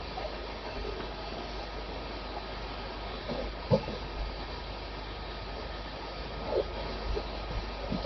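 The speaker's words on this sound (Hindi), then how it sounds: "हमारी ट्रेन निकल कर जा रही है" The Bihar Sampark Kranti Express (12566) rolls past Anand Vihar terminal, heard from aboard as a steady, moderate rail rumble with a few sharp wheel clacks.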